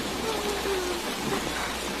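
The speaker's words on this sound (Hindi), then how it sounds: "मूसलाधार बारिश हो रही थी।" Heavy rain pours steadily in a cartoon scene as a continuous dense hiss, with faint low rumbles underneath.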